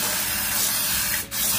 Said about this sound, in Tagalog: Ngayon, nainit na siya, maglagay na tayo ng spray oil.